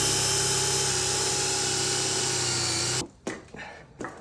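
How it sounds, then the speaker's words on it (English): A power drill bores holes in wood for floating shelves using a straightening rig, a loud steady whine that runs unbroken for about three seconds, then stops abruptly, leaving a few quiet knocks and handling sounds. "we used this rig for drilling the holes perfectly straight"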